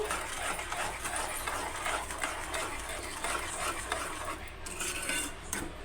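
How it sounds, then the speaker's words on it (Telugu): A spoon stirs sugar into water in a pot to make syrup, producing continuous metallic scraping and clinking against the pan, up close and fairly loud. "స్పూన్ పెట్టి కలుపుకుంటున్నారు"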